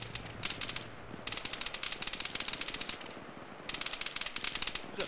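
Rapid bursts of automatic gunfire from a military shooter game, Arma, crackle in long sustained volleys with a brief lull between, loud and continuous with no talk.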